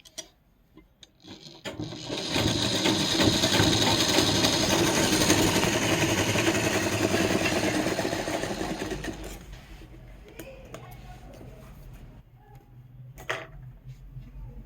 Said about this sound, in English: The second dart is being folded and stitched.